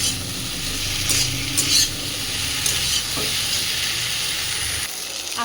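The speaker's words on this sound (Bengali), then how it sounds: "এবার এখানে আমি সেই ভেজে রাখা আলু আর সোয়াবিনটা দিয়ে দিলাম। এটাকে দিয়েও এবার খুব ভালোভাবে এবার কষিয়ে নেব।" Fried potatoes and soybean chunks stir-fried in a pan, giving a constant sizzle with the scrape and clink of a spatula stirring close by.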